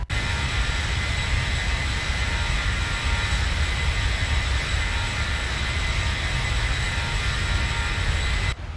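A Zibo Boeing 737 airliner in a flight simulator drones steadily in flight, a loud, even cabin roar of engine and airflow with faint tonal hums that holds unchanged throughout.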